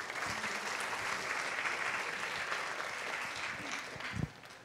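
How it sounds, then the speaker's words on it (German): An audience at a museum panel discussion on fast fashion claps steadily for a panelist, dense applause filling the room before fading out near the end with one low thump. "Herzlich willkommen, Asma. Applaus"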